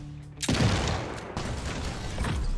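A mech weapon fires in the strategy game Kriegsfront Tactics, a sudden loud blast followed by rumbling impacts and a second burst, with no speech.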